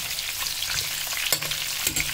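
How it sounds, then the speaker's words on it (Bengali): Cauliflower pieces fry in hot oil, giving a steady close sizzle with a few brief stirring scrapes, and no voices. "ফুলকপিগুলো একটু এদিক ওদিক করে ভেজে নিয়েছি"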